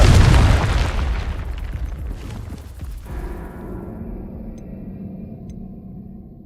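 A Confringo blasting spell explodes in Hogwarts Legacy, a loud booming burst that decays into a long rumbling tail and fades to quieter game ambience, with no speech.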